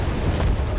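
Artillery shelling in Company of Heroes 3, a brief, dense, rumbling boom that fills the whole short moment at high loudness with no clear gaps.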